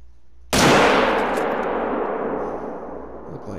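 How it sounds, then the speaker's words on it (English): A single sharp rifle shot in a lake-side hunting video game, loud and close with a sudden crack followed by a long rumbling echo that slowly fades. "Look like two good shots"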